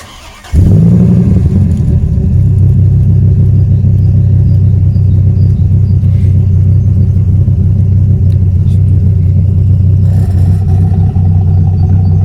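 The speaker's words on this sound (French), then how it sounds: "Donc petit démarrage, on va commencer clapet fermé" A 2006 Dodge Ram SRT-10's 8.4-litre V10 cranks and catches with exhaust valves closed, then settles into a loud, deep, steady rumbling idle that continues throughout.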